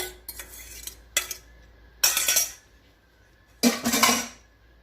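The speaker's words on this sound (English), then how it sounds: "Then we're going to put our fruits, mixture in." A fruit mixture is added to thick hummingbird cake batter in a bowl. A spoon or utensil scrapes and clatters against the bowl in four separate bursts, each growing busier, with quiet gaps between.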